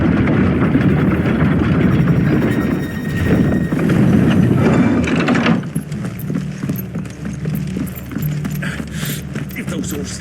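Horses' hooves clip-clop in the video game Final Fantasy XVI, steady and fairly close, mixed with game music and rumbling ambience. A voice speaks over part of it.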